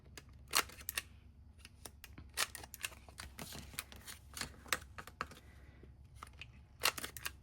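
Scissors snip the paper corners of handmade cash envelopes in a quiet room, a series of sharp, close, irregular cutting clicks with brief rustles between them and no talk.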